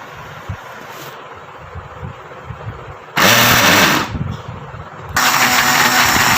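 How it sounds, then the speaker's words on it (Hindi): A kitchen mixer-grinder pulsing cucumber into a paste, two loud whirring bursts of motor and chopping blades starting abruptly after a few seconds of quiet handling noise, close to the mic. "ये मैं इसमें डाल लिया, मैं इसको ग्राइंड करूँगी।"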